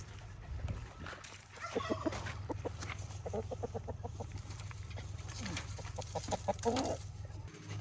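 Several chickens cluck in short bursts of repeated notes, fairly close, over a low steady background hum.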